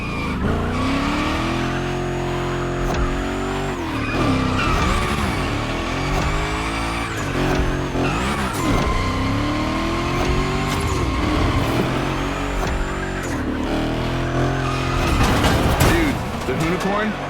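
A Hoonigan gymkhana car screeches through tricks, its tires squealing in long, rising and falling sweeps over a revving engine, loud and continuous, with voices talking in the background.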